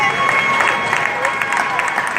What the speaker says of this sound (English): give a rousing round of applause both for our ring warriors